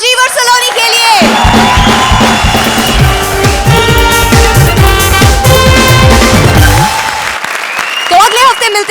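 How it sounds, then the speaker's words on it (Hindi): A comedy show studio audience breaks into loud, sustained applause and cheering, clapping and whoops swelling over music with a host's voice audible briefly before and after. "तो एक आखिरी बार जोरदार तालियां"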